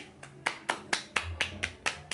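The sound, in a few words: hand patting around the knee in therapy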